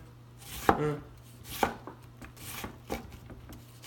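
A knife chops an onion on a cutting board, a few separate crisp knocks spaced unevenly, close and moderately loud, with a faint steady hum underneath.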